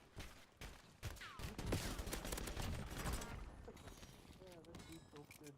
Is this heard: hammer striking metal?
no